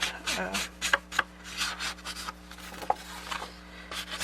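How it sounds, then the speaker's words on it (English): Paper edges of a handmade floral journal being inked, a soft scratchy rubbing repeated in short strokes, close and fairly quiet. "I just want to ink the edges a little bit, just to help give them some definition."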